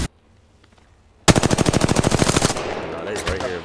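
Automatic weapon fire in the video game Apex Legends, with a rapid, loud burst of about thirty evenly spaced shots up close, followed by a noisy, echoing tail.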